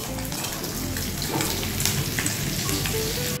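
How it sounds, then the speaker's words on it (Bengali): Puti fish rubbed with salt and turmeric frying in oil in a wok, a dense, steady crackling sizzle that stays loud and close throughout with no voices. "এবার কড়াতে নুন হলুদ মাখানো পুঁটি মাছ ছেড়ে দিলাম"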